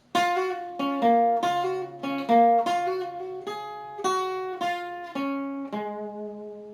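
A guitar plays a full riff alone: a flowing run of a dozen or so picked notes and brief double stops, mostly steady in rhythm, closing on a held, fading note.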